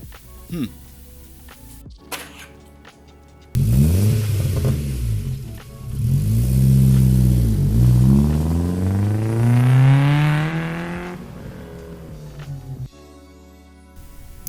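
A car on the road on a roughly 40-minute drive to Guelph, its engine note rising and falling through gear changes for several seconds, near and fairly loud, with someone talking around it.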